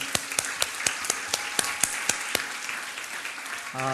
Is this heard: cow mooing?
no